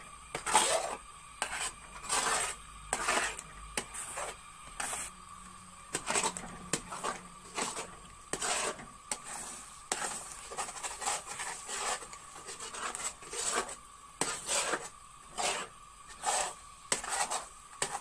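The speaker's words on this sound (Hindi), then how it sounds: "अब इस तरह चम्मच हिलाते रहेंगे क्योंकि नीचे से जले ना" A spoon stirs jaggery makhandi halwa in a pan, making rhythmic scraping clinks against the metal, repeated steadily and close up with no talking.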